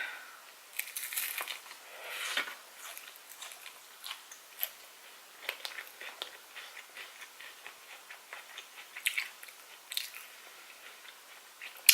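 Eating a Taco Bell Cool Ranch Doritos Locos Taco, close, quiet crunchy bites and chewing with crackling snaps spread irregularly through the stretch, no talking.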